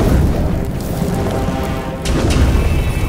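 Animated fire burst in a Poppy Playtime cartoon, a loud deep whooshing boom that rumbles on with a second surge partway through.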